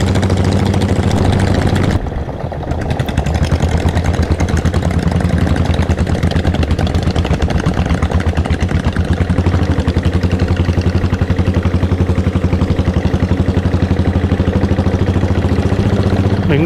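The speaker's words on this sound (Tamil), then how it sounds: "எங்கேயா பார்த்தாலும் நம்ம வண்டி சத்தம் தான் அப்படியே எழுப்பிட்டு போகுது." A Royal Enfield Diesel Bullet motorcycle on a group ride, its diesel engine thumping loudly and steadily throughout, with a brief dip near the start before the running resumes.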